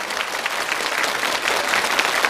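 An audience claps steadily in a dense, even burst of applause, with no voices over it.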